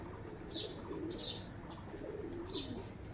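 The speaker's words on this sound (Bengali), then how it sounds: "এই যে এটা হলো আমাদের কবুতর" Pigeons kept at a village home coo softly in repeated low throaty calls, a few higher chirps above, all faint against a steady outdoor background hum.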